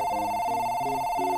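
In The Baby In Yellow video game, a telephone rings with a steady electronic tone that repeats in quick pulses, clear and continuous across the moment with no talk.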